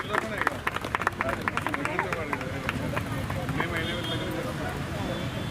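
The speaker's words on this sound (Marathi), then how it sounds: "सगळ्यांनी बसल्या बसल्या जोरदार टाळ्या वाजवून यांचं अभिष्ट चिंतन करूया." Seated audience at a monthly gathering near the Mahatma Basaveshwar statue in Nigdi claps in a burst of loud, dense applause that settles into lighter scattered clapping, with voices murmuring underneath.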